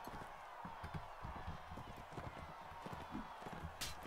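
Horse hooves clip-clop steadily in a 12th-century medieval mod of a combat video game, a continuous galloping patter under busy in-game noise.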